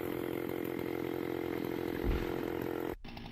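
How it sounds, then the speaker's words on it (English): A chainsaw buzzes steadily while cutting a notch into the base of a tree, a constant droning motor with a brief surge near the end before it cuts off abruptly. "a lumberjack using a chainsaw to carve a large, precise notch into the tree's base"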